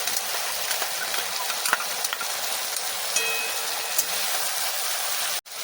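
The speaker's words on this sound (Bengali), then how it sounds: "এবার বেটে রাখা মশলাটা দিয়ে দিচ্ছি" Ground spice paste frying in a pan for a prawn curry with dheki greens, a loud, continuous hissing sizzle with occasional pops and stirring ticks, cutting out sharply near the end.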